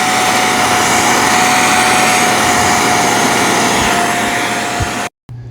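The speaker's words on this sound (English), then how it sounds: "Now I'm going to do suction only," A Hoover CleanSlate XL carpet spot cleaner running on suction only, a loud steady whining motor roar with a constant high tone, continuous and close for about five seconds before cutting off abruptly.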